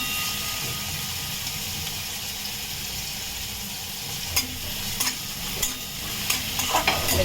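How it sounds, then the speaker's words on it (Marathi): Onion fries in a tempering of oil with green chili, cumin, mustard seeds and curry leaves for a red pumpkin curry, a steady bubbling sizzle joined later by several sharp scraping stirs. "आता इकडे लाल पोकळ्याची भाजी करून घेते कांदा घातला फोडणीला"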